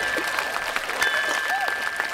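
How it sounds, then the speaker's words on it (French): Applause with scattered cheers from a crowd at an animated sporting games medal ceremony, a steady dense clapping wash with brief shouts rising through it, fairly close and alone. "Que d'acclamations sincères!"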